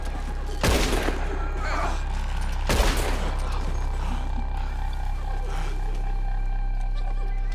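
Two loud, sharp gunshots in Red Dead Redemption 2, fired at ropes about two seconds apart, each with a booming tail over a steady low rumble of background game noise.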